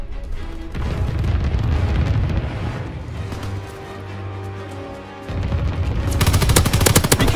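Anti-aircraft fire in Call of Duty WWII multiplayer: dense, loud rapid bursts of gunfire and booming blasts rattle continuously, easing briefly before a sharp renewed barrage.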